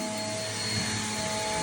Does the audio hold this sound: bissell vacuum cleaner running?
yes